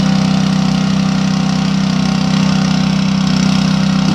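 A combustion engine powers the hydraulic pump on a trailer, giving a steady, close, mid-pitched idling drone that stays continuous and even throughout, with no talking.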